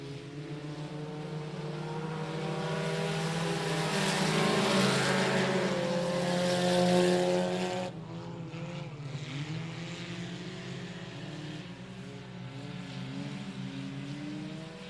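Race cars in a heat race at I-37 Speedway, a dense roar of several engines sweeping past loud and close, swelling then dropping as the pack moves on, leaving a steady drone of cars circling the track.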